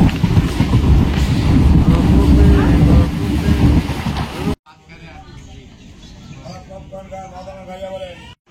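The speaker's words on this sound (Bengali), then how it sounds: "আর এই যে আমাদের ট্রেনটা দাঁড়ানো।" A train at Majhigram station on the single-track Bangaon–Ranaghat line: loud, close rail rumble and clatter for about four seconds, then an abrupt drop to quieter station ambience with faint voices.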